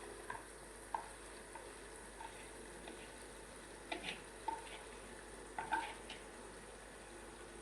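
Poha and cooked potato being stirred together in a pan over a low gas flame, a faint steady frying sizzle with soft spoon scrapes and taps recurring every second or so, close and quiet.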